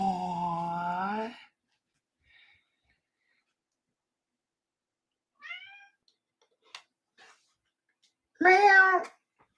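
A cat meowing indoors: a long drawn-out meow, then a short faint chirp, a few small clicks, and a final loud meow, separated by quiet gaps.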